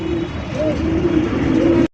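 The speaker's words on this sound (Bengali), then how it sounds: "এগুলো হচ্ছে একজন ব্লু শার্টিং কবুতর" Blue shirting pigeons cooing in a loft lined with around a hundred nest boxes, a steady low murmur of overlapping coos running continuously until an abrupt cut-off.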